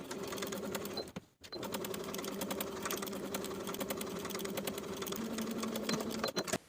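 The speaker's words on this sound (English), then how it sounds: "Sew one short edge and the long edge with a 3/8 inch seam allowance." A sewing machine runs steadily and close up, stitching the long seam of a fabric tie piece in a fast, even whir, with a short pause near the start and a brief stop at the end.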